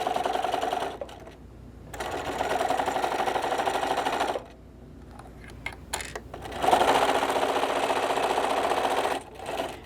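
A sewing machine stitches the seam of a fabric microwave potato bag, running in close bursts with short pauses as it back stitches back and forth, with no talk.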